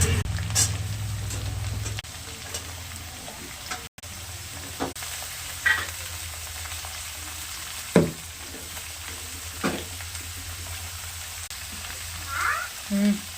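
Potato and pointed gourd fry in a pan with chilli, bay leaf and five-spice, giving a soft, low sizzle broken by intermittent scraping and clinking stirs.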